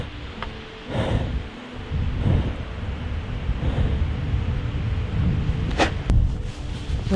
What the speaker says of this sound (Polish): Bardzo mocny wiatr.